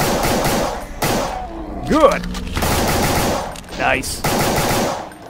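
Weapons firing in Brutal Doom, dense rapid bursts of gunfire filling most of the stretch with brief gaps, loud and close, while someone briefly speaks over it.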